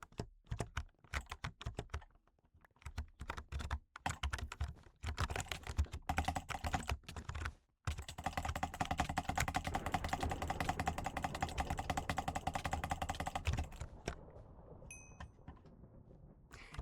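Rapid clicks of a computer keyboard during gaming come in bursts of fast keystrokes, then a denser stretch of steady typing before fading to quieter taps, close and crisp with no talking.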